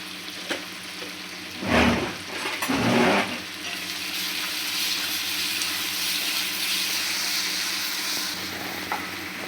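Onion with salt frying in hot oil, a steady bright sizzle throughout with two louder bursts of stirring or scraping early on.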